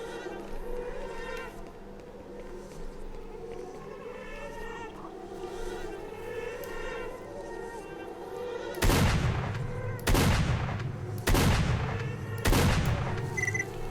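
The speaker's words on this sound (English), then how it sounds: "Still sounds like I'm being shot at" Gunfire in the video game S.T.A.L.K.E.R.: three loud, sharp shots spaced a second or so apart stand out near the end, following a stretch of low ambient game noise.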